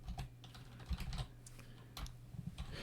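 Bursts of keystrokes on a computer keyboard while JavaScript code is entered, close and fairly quiet, with short pauses between quick clusters of taps and no voice.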